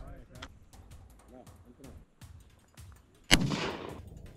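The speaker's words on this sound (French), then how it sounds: "J'ai tiré tout tordu!" A single loud shotgun blast goes off near the end while hunting guinea fowl in Senegal, sharp and close with a brief ringing tail, following quiet outdoor rustling and faint background voices.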